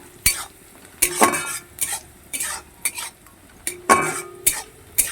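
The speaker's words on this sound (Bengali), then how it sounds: "পেঁয়াজটাকে ভালো করে ভেজে নিতে হবে লাল লাল করে ভেজে নেবো" Onions frying in white cooking oil in a pan, stirred with a metal spoon in repeated scraping strokes over a steady background sizzle, close and fairly loud, with no voices.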